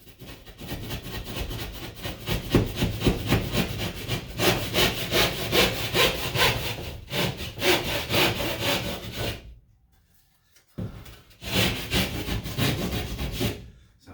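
A handsaw cuts through a drywall sheet with a steady back-and-forth rasping rhythm, loud and close, pausing briefly for about a second before resuming for a final stretch of strokes.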